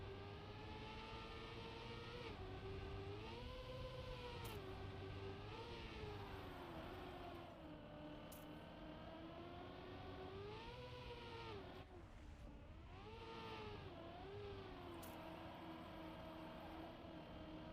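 Racing car engine in a racing video game, a continuous droning whine that rises and falls with gear changes and speed, holding steady and fairly close with no talk over it.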